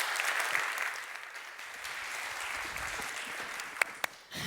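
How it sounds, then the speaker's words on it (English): Audience applause at a tech summit after a speaker's talk on coding, a steady wash of clapping that gradually thins out, with a few isolated louder claps near the end. "Another hand of applause for Erick Webbe, please."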